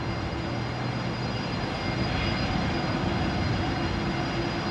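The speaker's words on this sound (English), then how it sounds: "We've got a Jetstar departing, actually, which is already airborne" Jetstar Airbus A321neo climbing out after departure from Brisbane Airport: a steady, fairly loud jet engine roar with a low droning hum runs evenly throughout, with no voices.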